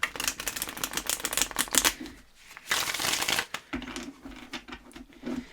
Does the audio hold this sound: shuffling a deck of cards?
yes